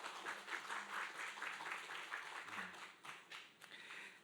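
A church congregation at a Hawaiian Korean church welcomes two visiting pastors from New York with steady, even applause that carries through the whole stretch, with no voices rising above it.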